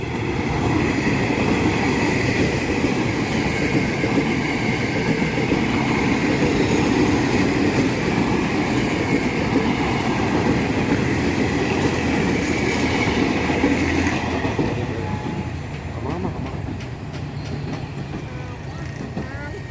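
An Indonesian commuter line (KRL) train rumbles past close by, with a steady roar and rattling wheels that continues for most of the time before easing off.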